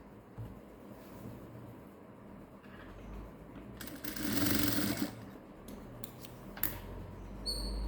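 A sewing machine stitches lining cloth and top cloth together for a blouse sleeve. After quiet handling, there is one short, close burst of rapid stitching, followed by a few light mechanical clicks.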